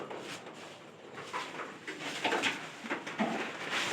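A pair of pigeons in a loft give soft, low coos in short repeated phrases. The sound is quiet and close, with faint rustling between calls.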